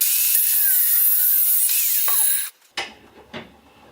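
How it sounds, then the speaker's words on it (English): An angle grinder cuts down a line through a steel wrench being shaped into a knife blade, giving a loud, steady high-pitched shriek for about two and a half seconds. It then stops abruptly, leaving faint clanks and scraping. "I'm going to take the angle grinder and quickly cut it down the line."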